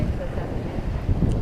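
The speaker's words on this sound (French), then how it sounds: "là en ce moment on a 15 nœuds de vent" Wind gusts on a sailboat in the Gulf of Fréjus in a roughly 15-knot breeze make a steady, close rumbling buffet that fills the whole moment.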